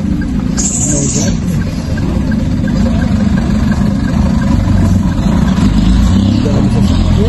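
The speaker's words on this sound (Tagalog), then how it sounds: "Dami sasakyan." Heavy traffic with many cars and vehicles idling and creeping along, a low steady engine rumble with occasional revving, heard from inside a vehicle while people talk over it.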